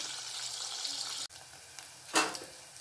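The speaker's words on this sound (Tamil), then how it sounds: "ஒரு பக்கம் கருவாடு பொரிஞ்சிருச்சு பெரட்டிடுறேன்" Dried fish frying in a pan of oil for a dried-fish curry gives a steady close sizzle that drops out briefly, then flares into a sharper burst of hissing as the pieces are turned.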